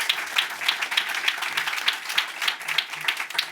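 An audience at an AI House panel on LLMs and agentic systems claps steadily, a moderate, even patter of hands from a modest crowd lasting a few seconds.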